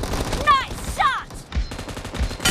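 Gunfire from a multiplayer team deathmatch shooter game, with sharp shots scattered through the clip alongside announcer-style voice lines and game effects.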